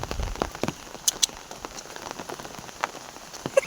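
Rain falls on surfaces nearby, a constant patter with some louder individual drops and drips scattered throughout, and no voices.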